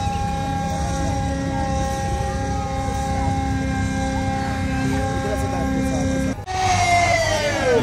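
Sustained siren wailing steadily at an Independence Day flag ceremony, a long even tone over crowd murmur that briefly drops out near the end before resuming with a rising sweep.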